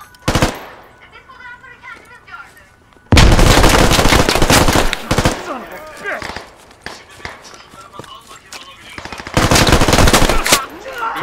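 Rifle gunfire in the video game Squad, loud rapid bursts and single shots close by, with quieter stretches of movement and footsteps between them and voices speaking over the action.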